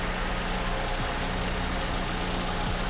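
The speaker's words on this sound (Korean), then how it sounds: "엔진 소리 일정합니다" A Toyota Camry 2.5 XLE engine idles steadily at close range in the engine bay, a constant low hum with a faint mechanical rattle and no change in pace.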